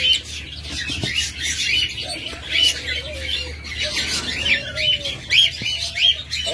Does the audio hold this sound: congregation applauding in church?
no